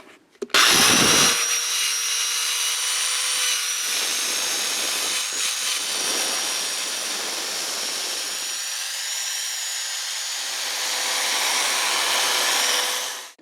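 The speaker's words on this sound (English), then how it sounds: "I'll be using this foam pad on an electric drill" An electric drill spinning a foam polishing pad whirs continuously at high speed, a loud steady whine that shifts slightly in pitch as the pad presses and eases.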